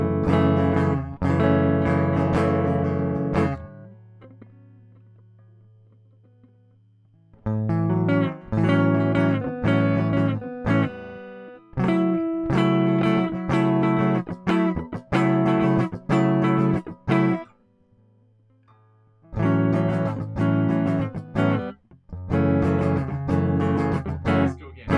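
Electric guitar chords played on the bottom four strings, with a distorted, effects-laden tone, come in strummed bursts separated by pauses and a few sustained low notes.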